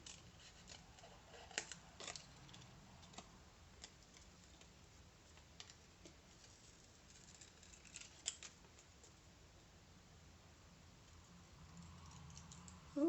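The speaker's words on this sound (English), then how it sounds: "let's cut some of these leaves" Scissors snip out paper leaves at a craft table, a string of soft, quick, close cutting clicks over a quiet background, faint overall.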